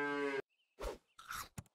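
A cow in a video game lets out a loud, close moo, followed by a few short, scattered clunks and thuds.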